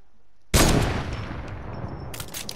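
A single loud gunshot bursts out in a video game shootout, then rings off into a sustained noisy decay, with a brighter burst of crackling near the end and no talk.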